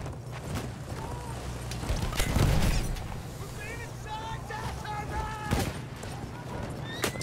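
Horses neighing and whinnying in the World War I shooter Battlefield 1, several rising calls mid-clip amid battlefield rumble, distant explosions and gunfire, fairly close and moderately loud.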